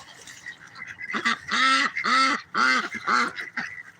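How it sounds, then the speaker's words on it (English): Canada geese give four loud, close, nasal honks in quick succession after softer calls in the background, each honk brief and strongly voiced. "Canadian geese in the back there,"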